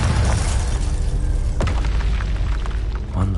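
A Bombarda spell explosion in Hogwarts Legacy on PS5: a loud, deep boom with a sharp burst partway through, surrounded by rumbling combat noise.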